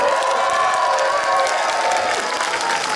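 A concert crowd in an outdoor plaza at a Korean song festival applauds and cheers for a guest singer, a loud, steady roar of clapping and shouting that fills the whole stretch.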